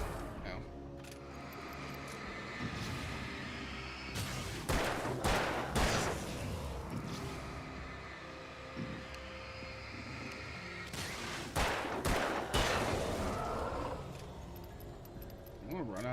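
Repeated bursts of video-game gunfire come in clustered volleys over a steady background, with rattling, jangling clatter between shots and someone talking throughout.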